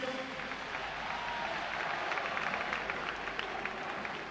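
A stadium crowd at the Parc des Princes applauds and cheers during a 1999 Paris SG versus Sedan football match, a broad, steady roar of clapping from a large, distant crowd.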